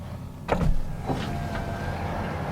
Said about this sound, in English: what isn't his fault is the sound the window makes when it rolls down